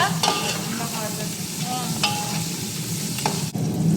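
Coriander and mint leaves sautéing in a pan for Tamil Nadu style biryani, a steady close sizzle with frying crackle and occasional stirring scrapes throughout.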